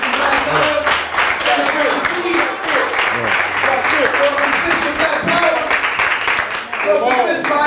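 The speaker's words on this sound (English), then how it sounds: "Let's get the chairman another round of applause." A crowd at a community gathering applauds the chairman, with steady, loud clapping and scattered cheers sustained throughout, and voices audible underneath.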